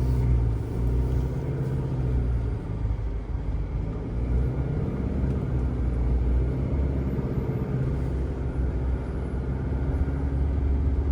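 A car engine labours under load up a slow uphill rise through S-bends, a steady low rumble and drone throughout, close and continuous with no voices.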